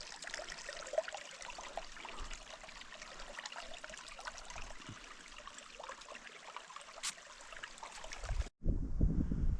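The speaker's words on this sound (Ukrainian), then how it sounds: "Тут такий струмочок тече." Small stream trickling through a Swedish blueberry patch, a steady continuous babble with light wind buffeting the microphone, and a brief dropout followed by louder rumbling near the end.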